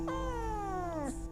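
A house cat lets out a single long, falling meow close by, loud and plaintive, ending in a short upturn, with a faint background hum and no talking.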